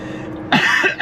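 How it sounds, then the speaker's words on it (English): A single person coughs close up, two or three harsh bursts in quick succession, with no talking. "That blooming cough, that had pretty much gone, and it's just sort of come back last night."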